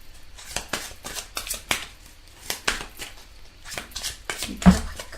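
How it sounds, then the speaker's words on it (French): Tarot cards being shuffled and drawn by hand, a close series of soft papery flicks and riffling swishes in uneven bursts, with one firmer slap near the end, no talk over it. "on va tirer quelques cartes"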